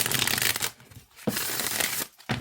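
A fresh tarot deck is shuffled by hand up close, with several dense bursts of papery card riffling separated by short pauses and no voices.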